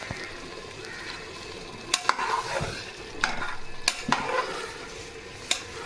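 Tomato rice, cooked biryani-style at home, being stirred in a pan: a steady sizzle runs throughout, broken by several sharp scrapes and clinks of a spoon against the metal, close and moderately loud.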